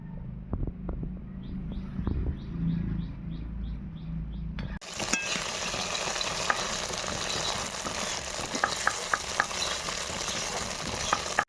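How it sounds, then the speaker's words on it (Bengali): Homemade paneer pieces frying in a pan, a steady broadband sizzle that jumps louder midway as the pieces go in, with scattered stirring clicks and faint bird chirps in the background. "পনিরগুলোকে হালকা আছে ভেজে নেব"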